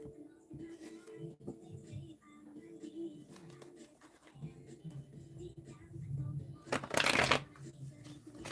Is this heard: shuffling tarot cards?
yes